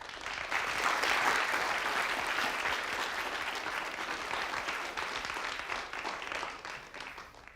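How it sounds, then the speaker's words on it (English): Sustained audience applause fills a school hall to welcome a guest speaker, loud and even throughout with dense clapping, then tapering slightly at the end. "Can we give a big round of applause, please, to Musarraf?"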